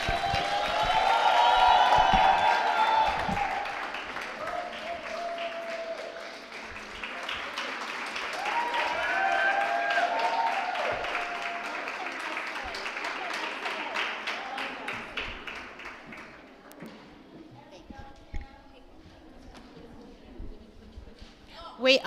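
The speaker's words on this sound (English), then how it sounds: "So I applaud you." Audience at a book launch breaks into sustained applause with some cheering, loud at first and then thinning out over about twenty seconds, with people talking over and after the clapping.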